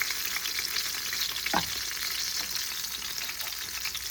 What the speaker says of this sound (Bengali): ভালো করে এপিস ওপিস করে এটা ভেজে নিতে হবে।